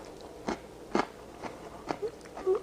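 Fermented zucchini spears are bitten and chewed, giving a series of five or six crisp, close crunches spaced about half a second apart, with no talking over them.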